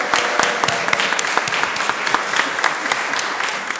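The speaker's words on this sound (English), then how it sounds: "please give a round of applause" A congregation at a membership celebration service breaks into full, dense applause, loud and steady throughout with many overlapping hands.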